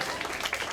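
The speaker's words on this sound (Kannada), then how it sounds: "ಜೋರಾಗಿ ಚಪ್ಪಾಳೆ ಬರಲಿ" An audience at a music memorial programme breaks into loud, dense applause, a brief burst of many hands clapping together.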